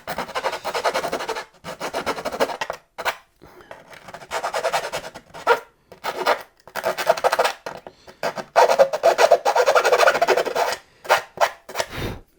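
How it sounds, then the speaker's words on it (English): A file rasps back and forth against the servo exit hole in a carbon-fibre model glider wing, working in close, steady bursts of strokes with short pauses between them. "all I'm doing here is filing away the material at the base of the exit hole"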